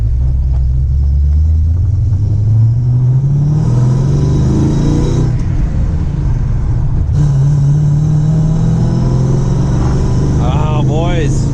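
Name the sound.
Lincoln Mark VIII exhaust note with headers, manual transmission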